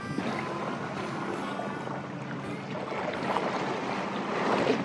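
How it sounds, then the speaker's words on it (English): Water splashes and rushes steadily past a small dinghy on a river, with only a faint hum from its quiet electric motor beneath the louder water sound. "the sound of the water is actually louder than the motor"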